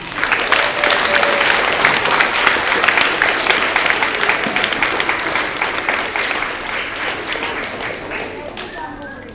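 Sustained applause from an audience for award winners at a school ceremony, many people clapping loudly and evenly for several seconds before tapering off, with some voices mixed in.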